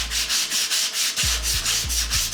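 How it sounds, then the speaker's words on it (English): Leather belt edge hand sanded with fine grit up to 800, rhythmic back-and-forth rubbing strokes about six times in quick succession, close and fairly loud, with no talking. "I went with a hand sanding down to 800 grit"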